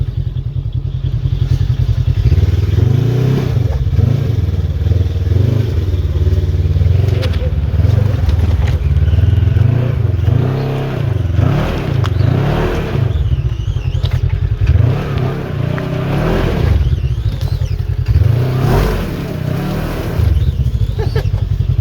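A Polaris RZR 1000 driving with a noisy differential: a loud, continuous engine drone with shifting revs, overlaid by clattering and scraping drivetrain noise throughout, close and steady with no voices.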